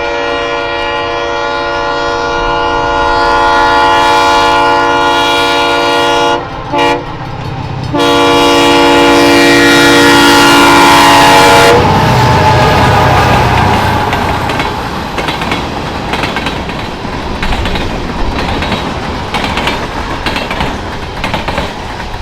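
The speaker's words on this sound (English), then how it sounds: "At a classic cantilever crossing over M61, we would once again catch the train at speed." A Great Lakes Central Railroad train passes a cantilever crossing over M61 at speed, its horn blaring loudly in long sustained blasts, then the rumble and clickety-clack of wheels roaring close by as the cars rush past.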